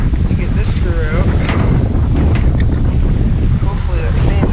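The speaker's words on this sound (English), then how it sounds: "It's really windy outside." Strong outdoor wind buffeting the microphone, a loud continuous rumbling roar with gusty swells for several seconds while someone works on an early-1990s Ford F-150 pickup headlight, with faint talk underneath.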